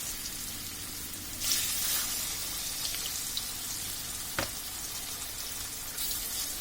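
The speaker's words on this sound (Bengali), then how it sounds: "আমাদের তেলটা গরম হয়ে গিয়েছে, এখন এর মধ্যে আমি মাছগুলো দিয়ে দিব।" Pangas fish pieces drop into hot oil, and a broad, close sizzle swells up, then keeps up as a steady hiss with a sharp splatter pop partway through.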